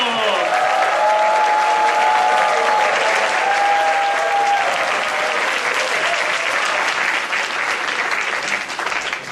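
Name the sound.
church congregation applause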